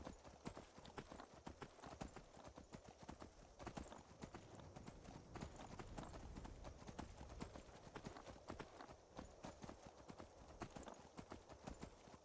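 Faint, rapid clip-clop of horse hooves in the video game Skyrim beats steadily and continuously at a brisk pace, with no voices.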